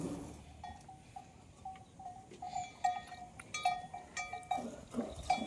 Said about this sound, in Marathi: हा तुम्ही आवाज बघू शकता दुधांच्या धारांचा.